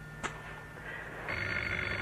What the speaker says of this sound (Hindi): ये किसका फोन आया इतनी रात में?